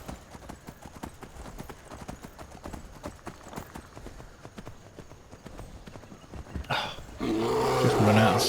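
Horse hooves gallop in the video game Skyrim, a rapid rhythmic clip-clop that runs steadily for several seconds, then gives way to a louder, dense burst of game sound near the end.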